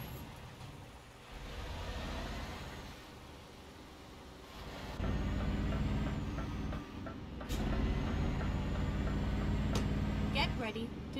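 A Scania truck hauling 23 tons of oil on a West Balkans road gives a steady, close low engine drone that swells louder partway through, with a brief high hiss near the end and a voice talking over it.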